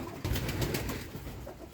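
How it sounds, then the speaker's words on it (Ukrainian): Fantail pigeons coo in a loft, a short, close, continuous low burbling call with no talk. "Дивіться, це голубя пав'яка."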